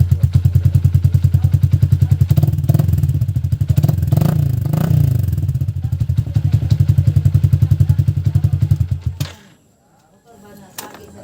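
A Yamaha Sniper 150 V2 motorcycle fitted with an Akrapovic silencer exhaust idles loud and close in a shop, with irregular revs and throttle blips, then cuts out near the end, leaving near silence.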